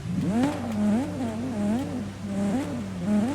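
A BMW in Forza Horizon 5 revs with a loud, near engine note that rises and falls in repeated surges, its exhaust crackling between pulls.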